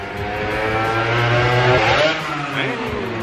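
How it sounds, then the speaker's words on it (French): A motorcycle passes by on a street outside a restaurant in Aurillac, its engine rising to a loud revving whine then falling away as it recedes, with people talking over it. "Oh la moto"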